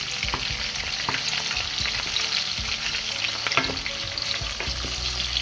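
Palm oil sizzles and crackles steadily in a hot pan, with occasional scraping stirs and small pops throughout.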